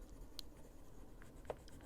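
A blending stick rubs softly over colored pencil on paper in a faint, steady scratchy hiss with a couple of tiny ticks, close up and quiet with no talking.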